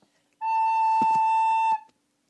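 A single soft, pure recorder note, a G, held steadily for about a second and a half, with faint taps during it.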